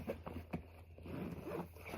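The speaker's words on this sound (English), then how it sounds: "I'll just use the other zipper." A bag zipper rasps in quick, uneven pulls close by, scratchy strokes repeating over a couple of seconds with no talking.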